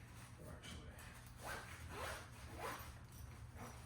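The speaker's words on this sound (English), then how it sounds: "Okay, I'll zip this up." A zipper being pulled closed on a hunting pack in several short rasping strokes, quiet and close, with soft rustling of the fabric between pulls.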